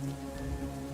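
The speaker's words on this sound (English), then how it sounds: "You hear the rain start to hit the roof." Steady rain drums on a cabin roof as a played storm ambience for a Halloween tabletop game, a dense continuous patter with a low rumbling bed and no voices.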